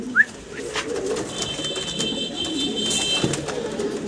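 German shield fancy pigeons, a young pair, cooing softly in a loft, with low murmuring coos running steadily under a faint high electronic whine and light background rustle.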